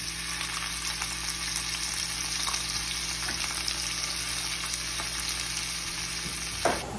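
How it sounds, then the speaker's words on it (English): Onion, bell pepper and garlic sauté in a hot pan for a paella, a constant close sizzle and crackle throughout with a faint scrape near the end, no voices. "So now that the onions have been sauteing until they're starting to become translucent"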